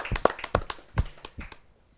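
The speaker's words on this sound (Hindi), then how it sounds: "जोरदार ताली के साथ हम उनका स्वागत" A few scattered handclaps at a Hindi poetry gathering, sharp and uneven, quickly thinning out and fading to quiet within two seconds.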